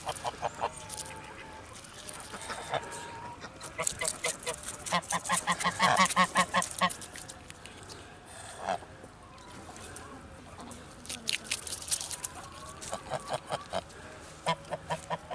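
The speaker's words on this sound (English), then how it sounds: "here come the other geese" Franconian geese and chickens in a poultry yard, honking and clucking in scattered bursts that swell into a busy chorus of loud, overlapping honks midway, then fade and return, fairly near and faint overall.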